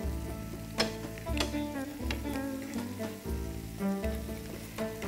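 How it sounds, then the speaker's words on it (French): Almond-filled briouates frying in hot oil, a steady continuous sizzle with bubbling crackle and occasional stirring knocks close up, no voices. "je continue comme ça la friture"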